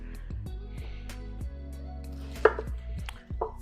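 A knife slices through a red onion on a cutting board for a lamb gyro recipe. Close, crisp chops land in a steady rhythm of about eight cuts, with one louder knock partway through.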